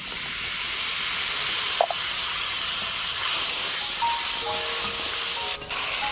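Water poured onto onion, garlic, turmeric and chilli powders frying in a pan, giving a steady loud hiss and sizzle that runs throughout, with a few faint clinks.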